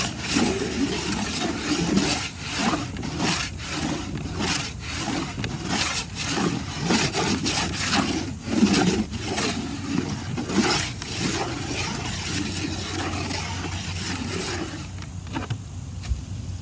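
Painted wood surface being scratched in a test, heard as a series of rhythmic rasping strokes against a steady background hum.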